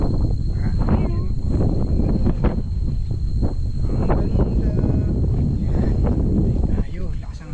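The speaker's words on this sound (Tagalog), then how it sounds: "Tayo, lakas ang hangin." Strong wind buffets the microphone in heavy, rumbling gusts on a mountain trail at Mt. Marami while people talk over it.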